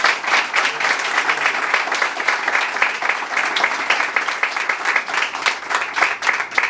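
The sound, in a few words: applause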